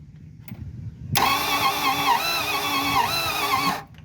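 A junkyard muscle car's engine turns over on its starter, a loud steady cranking that begins abruptly after a short quiet pause and runs continuously for a few seconds before cutting off.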